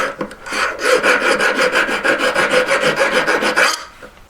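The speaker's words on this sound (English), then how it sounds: "Okay, so I've been filing it a lot." Hand file rasping steadily on a ring under the collet during jewelry making, a fast even rhythm of roughly a dozen close, loud strokes that stop abruptly near the end, with no talk.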